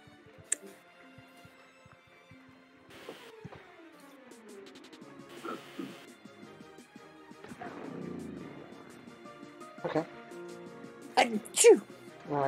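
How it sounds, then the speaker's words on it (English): A single sharp sneeze comes near the end of a Loomian Legacy game stream, after a stretch of quiet talking, clicks and small game sounds. "Achoo! Bless you."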